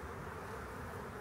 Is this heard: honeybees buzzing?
yes